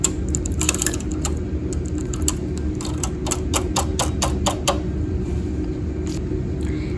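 Rapid mechanical clicking and clacking of needles being moved along a knitting machine bed, a close, busy run of sharp ticks that bunch together in the middle and then thin out over a steady background hum.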